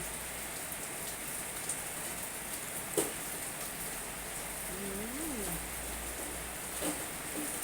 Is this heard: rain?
yes